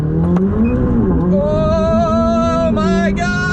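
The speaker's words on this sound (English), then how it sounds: "There's nothing quite like the 600 LT. Let's take it for a rip, shall we?" A McLaren 600LT supercar revs hard and accelerates. Its loud engine note rises and falls in pitch for a few seconds and stays close by throughout.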